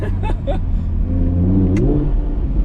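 An Audi R8 V10 Spyder engine rises in pitch as it accelerates after a downshift, a loud, close, continuous rumble that swells over a couple of seconds.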